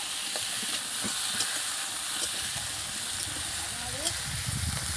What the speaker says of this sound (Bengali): টমেটোটা দিয়ে দিয়েছি, একটু নাড়তে থাকবো, ভালো করে